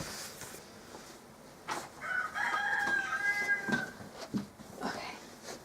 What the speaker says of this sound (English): I see a chicken.